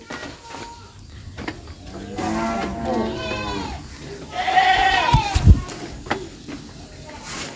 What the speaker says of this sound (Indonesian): Itu boleh dilihat kambing-kambingnya.